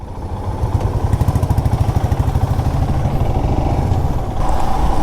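A Royal Enfield Himalayan BS6 motorcycle sets off on a ride, its single-cylinder engine thumping in a loud, close, even rhythm that builds slightly as it pulls away.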